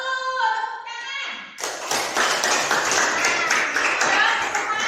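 A classroom of students claps together on request, a dense burst of applause that follows the teacher's speaking voice and continues steadily for several seconds.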